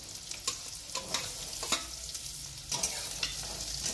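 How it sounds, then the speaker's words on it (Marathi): Ginger, garlic and onion frying in hot oil with stirring: a continuous sizzle with intermittent scraping clicks of a spoon against the pan, close and moderately loud. "कांदा परतवून घेते."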